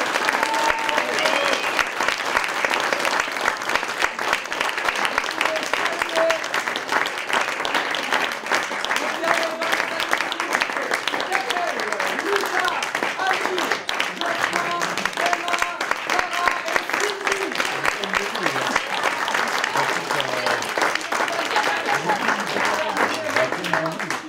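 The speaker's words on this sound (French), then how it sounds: "on va pouvoir applaudir les équipes" Audience at an improv theatre show applauds the teams with steady, dense clapping sustained throughout, and faint voices and cheers are mixed in.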